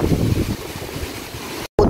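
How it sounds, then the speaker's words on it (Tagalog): Strong wind roaring outdoors after a night of heavy gusts, buffeting the microphone with a loud low rumble and sweeping gusts, briefly cutting out before resuming. "Grabe, malakas pa yung hangin"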